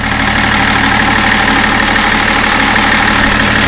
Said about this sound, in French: Que voilà le moteur donc tournant.